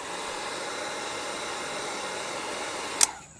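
A heat gun blows on window tint film, a steady loud airy roar that runs throughout, then cuts off with a brief click near the end.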